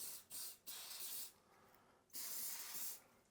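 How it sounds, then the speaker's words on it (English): Three short bursts of hissing aerosol spray of CA glue accelerator, close and fairly quiet, separated by brief pauses. "And then we'll spray this accelerator on the opposite piece."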